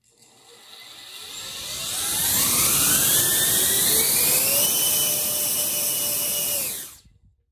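Cinewhoop drone motors on short ducts spin up under battery power on a thrust test stand, a loud rising whine that climbs in pitch, holds steady at full throttle for several seconds, then cuts off abruptly, with no talk.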